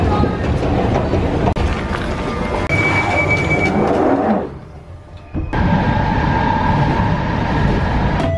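A train running on rails, a loud continuous rumble and rattle heard from on board, briefly dropping quieter mid-way before the roar returns, with faint background voices.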